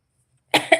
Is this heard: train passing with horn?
no